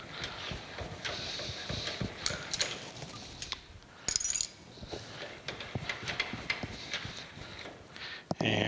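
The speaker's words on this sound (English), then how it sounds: "Bring the carriage back the other direction." Carriage of a Monarch Model K lathe cranked along its ways during a digital readout install, a continuous mechanical rumble with ratcheting clicks and a few sharp metallic knocks, close, with some faint talk.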